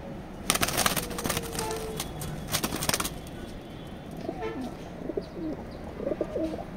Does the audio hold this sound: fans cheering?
no